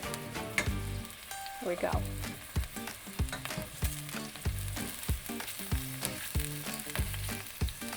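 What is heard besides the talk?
scallops searing in a pan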